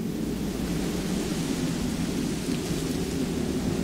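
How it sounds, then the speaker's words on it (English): Steady thunderstorm ambience in The Walking Dead Season 4 video game, a continuous rumbling wash of rain-like noise with low thunder underneath, moderately loud and unbroken, no speech. "Why does it sound like a storm if it's not storming?"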